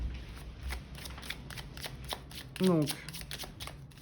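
Oracle cards shuffled by hand for a tarot reading, a soft close riffling patter that keeps going for a few seconds while someone talks over it.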